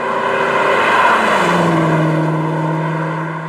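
A Ford GT engine roars loud and close as the pedal is pressed, its tone climbing smoothly and then holding a steady drone before easing slightly at the end, with no talk.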